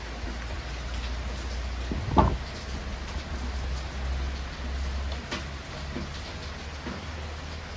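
Steady rain falls in a continuous soft hiss, with a brief louder thump near the middle and faint patter on a surface, no voices.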